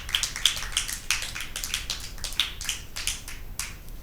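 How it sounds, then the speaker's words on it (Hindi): An audience claps at a Christmas Bible quiz held at a girls' high school, producing a burst of scattered, crisp handclaps of moderate loudness that thin out over a few seconds, with no talking. "अनुष के लिए और टीम ए के लिए भरपूर तालियां बजाएंगे"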